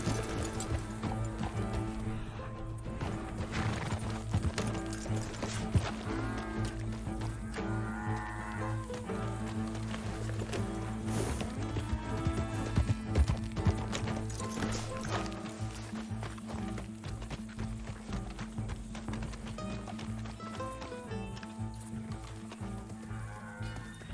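A horse gallops in Red Dead Redemption 2, its hoofbeats pounding in a fast, steady rhythm under a full music score and game ambience, with hooves and gear rattling throughout.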